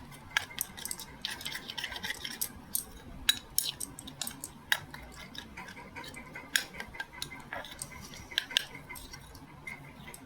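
Spoon clinking and scraping against a bowl while mixing gram flour batter with lemon juice, sharp irregular taps and stirring scrapes repeating close up throughout, with no talking.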